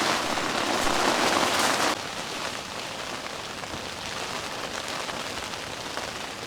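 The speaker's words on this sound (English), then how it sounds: "just listen to the rain. As you can tell, it's not light," Heavy torrential rain drums steadily on a surface close by, a dense hissing patter that is loudest for the first two seconds and then settles slightly, with no voices.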